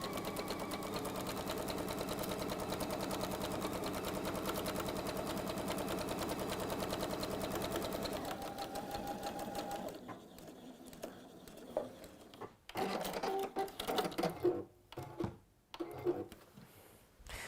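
A sewing machine stitches a line with a fast, steady mechanical patter for about eight seconds, then slows and stops, followed by quieter handling clicks and rustles.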